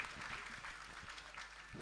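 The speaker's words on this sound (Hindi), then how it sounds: "कमलदास जी महाराज, एक बार त्यागी जी महाराज और कमलदास जी के सम्मान में जोरदार ताली।" Audience applause at the opening of a religious katha gathering, a faint, even patter of many hands clapping, distant and continuous without other sounds.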